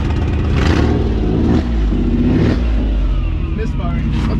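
Toyota MR2 Spyder with a swapped 1MZ V6 misfiring as it drives, a loud, uneven engine drone with stumbling surges and a brief dip in the middle, people talking over it.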